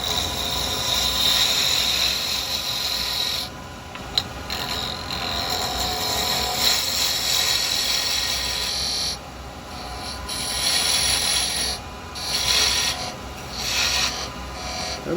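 A wood lathe spins while a carbide chisel turns a wooden mushroom, giving a continuous dry scraping rasp that swells and eases in short bursts, fairly close and with no talking.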